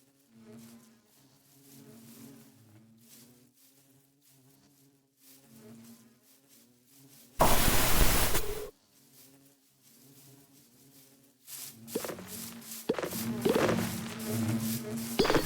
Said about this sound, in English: Yeah, I like the bees.